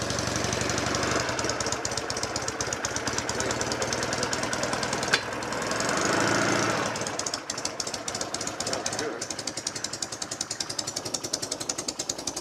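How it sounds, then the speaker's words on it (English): A classic motorcycle with its seat removed idles after a single kick start. The close, steady, rapid thumping tick-over has a brief burst near the middle and a short swell in revs before settling again. "So one kick, very smooth engine."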